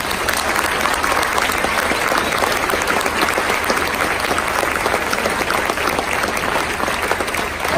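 An audience applauds graduating seniors at a school band concert: dense, steady clapping from many hands fills the whole stretch at a constant level, with no talk over it.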